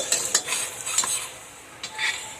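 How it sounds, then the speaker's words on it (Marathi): Spoon stirring ground tomato paste into a besan mixture for Sindhi kadhi, a few soft scraping strokes with light sizzling, close and quiet, no talking. "आता आपण याच्यामध्ये टमाटे घालूयात."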